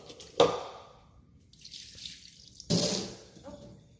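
Dirty vegetables rinsed under a running kitchen tap: two sharp bursts of gushing water close by, with quieter splashing and dripping between them.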